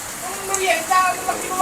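Steady typhoon rain patters on a surface close by at a construction site, a constant hiss with scattered drop sounds, while faint voices murmur underneath.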